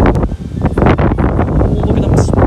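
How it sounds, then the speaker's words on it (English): Strong outdoor wind buffets the microphone in loud, continuous gusts with heavy low rumble at a busy Pokémon Go Fest gathering in London. "I know it is incredibly windy"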